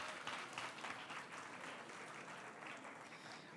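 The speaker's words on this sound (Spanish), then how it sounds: "Denle un aplauso a los hombres que saben pelar papas." Audience applause at a talk, a dense, even patter of many hands that stays steady and rather distant across the whole stretch.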